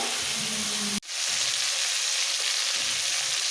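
Eggplant, beans and potatoes fry together in a pan with a loud, steady hiss; the sizzle cuts off abruptly for an instant, then resumes just as strong.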